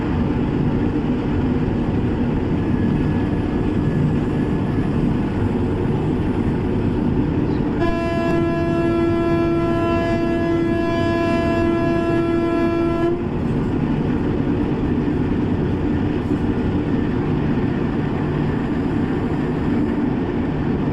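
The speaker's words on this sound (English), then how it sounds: "So I am slow down the train." A train driven in Train Simulator, the 12772 Raipur–Secunderabad SF Express, gives a steady, loud rolling rumble throughout, with a long, sustained horn blast of about five seconds in the middle.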